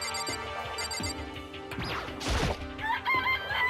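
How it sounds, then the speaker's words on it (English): Chickens in the video game Danganronpa: Trigger Happy Havoc, crowing and clucking over game music, with a crashing burst in the middle and bright clucks near the end. "This place even has chickens, huh?"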